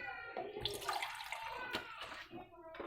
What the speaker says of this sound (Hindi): थोड़ा सा पानी और डालने लगे।